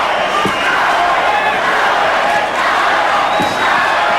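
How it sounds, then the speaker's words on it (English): A dense, loud boxing arena crowd chants the fighter Chavez's name during the Julio Cesar Chavez vs Miguel Angel Gonzalez bout, a continuous roar of many voices with faint thuds under it. "Crowd trying to get Chavez going by chanting Chavez, Chavez."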